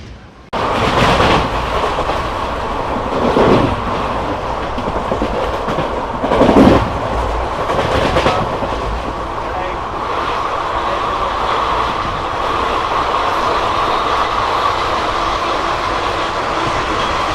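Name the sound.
moving train, onboard past Katpadi junction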